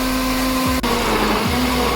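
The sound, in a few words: blender blending apples, pineapple, lemon, mint and ice into juice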